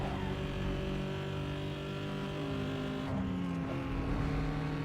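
A race car engine roars in Need for Speed Underground 2, its loud, steady tone shifting pitch through gear changes and throttle, close and continuous with no talk.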